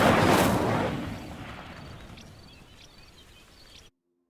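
Incendio fire spell cast in the Hogwarts Legacy video game, a loud burst of roaring flame that swells then fades over a few seconds into quiet.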